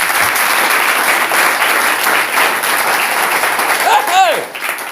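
A church congregation applauds in praise, a steady dense wash of clapping filling the whole span, with a voice calling out briefly near the end.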